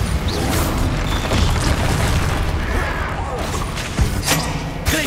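Bombarda and Confringo spell blasts in the Hogwarts Legacy video game, dense rumbling booms and crashing bursts layered over continuous loud battle noise, with sharp pops near the end.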